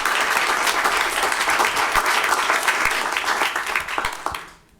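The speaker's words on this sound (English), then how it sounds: "So I'd like to give her a round of applause." Audience applause at a city council meeting, a dense burst of clapping from a roomful of people that holds steady for several seconds and then quickly fades out.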